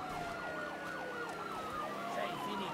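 A police car siren in the Mafia 3 video game wails in fast up-and-down sweeps, steady and moderately loud over a muffled game background.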